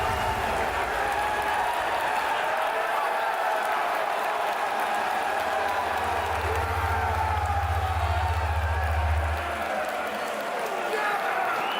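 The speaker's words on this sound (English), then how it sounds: "That's the crowd, and you can hear in the background." Crowd noise at a live tabletop wargaming convention preview, a broad steady murmur of many voices and bustle filling the background throughout, with a low hum swelling in the middle.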